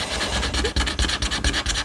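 A Hello Budget scratch card is rubbed hard with rapid back-and-forth strokes, a loud, close, raspy scraping in a quick rhythm with no voices.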